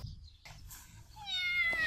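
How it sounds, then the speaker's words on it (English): A pet cat gives a single short meow near the end, fairly close against a quiet room, with brief faint rustling beforehand and no talk. "I also have two cats, Azra and Mishko."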